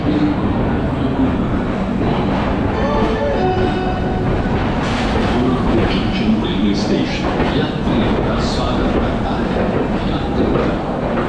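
Bihar Sampark Kranti passenger train rolling along the rails, a loud continuous rumble with rhythmic wheel clatter and occasional screeching squeals, and a voice speaking under the din.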